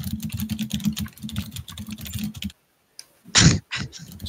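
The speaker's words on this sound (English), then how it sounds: "Sounds like a keyboard." Rapid clicking of keys on a computer keyboard, steady and close, breaking off briefly before a few more louder taps; no one talks over it.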